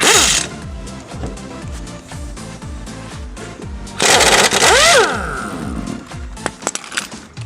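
An impact wrench works on the rear bumper bracket bolts of a truck getting a 2-inch budget body lift, giving close, loud rattling hammering in bursts with a rising whine around the middle and clanks of metal near the end.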